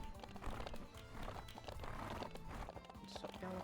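Horse galloping in The Ranch of Rivershine video game, a busy continuous run of hoofbeats with snorts and a whinny over game ambience, moderately loud throughout.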